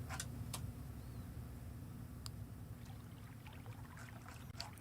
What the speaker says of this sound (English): The river.